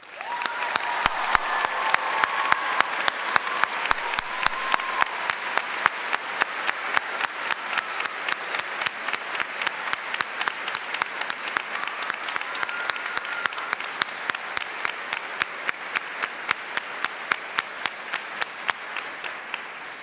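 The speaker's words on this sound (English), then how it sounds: "I would like for us to congratulate, with a round of applause, Russell Kempfett." A crowd at a high school graduation convocation gives a sustained round of applause, dense clapping that settles into rhythmic unison claps repeating steadily to the end.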